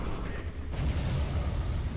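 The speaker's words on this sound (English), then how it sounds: "There you go, explosion!" A deep, rumbling explosion in a video game, a heavy low boom that rolls on steadily for a couple of seconds without a sharp attack, with no voices over it.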